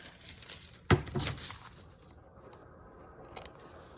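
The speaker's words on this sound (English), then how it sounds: "Preferably with our big scissors." A single sharp snip or crunch of scissors through paper, close and fairly loud, followed by softer rustling and one faint later click.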